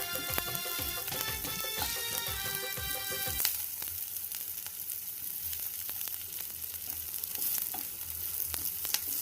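Onions sautéing and stirred in a pan, a steady crackling sizzle throughout, with rhythmic utensil scrapes and tonal clinks in the first few seconds before it settles into an even fry.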